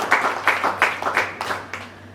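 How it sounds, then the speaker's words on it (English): A small audience at a 20th anniversary celebration in Mauritius claps in an uneven, pulsing rhythm of bursts. The applause is fairly close, moderately loud and fades slightly toward the end. "just give a round of applause for every person that spoke here tonight"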